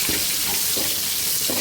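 Onions and fennel seeds frying in oil in a pan for crab gravy, a loud, dense, unbroken sizzle close up with faint stirring underneath.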